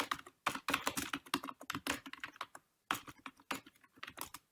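Fast, uneven typing on a computer keyboard while an email ID and password are entered, clear close key clicks in bursts with a brief pause midway, no talking.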